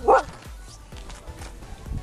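A small adult husky-type dog gives a short bark near the start, followed by quieter yips and low background sounds.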